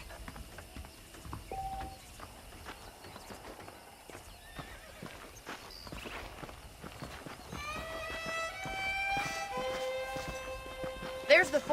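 Horses in the Western video game Red Dead Redemption, hooves clip-clopping in a steady walking rhythm near at hand, with a horse whinnying toward the end over faint background ambience.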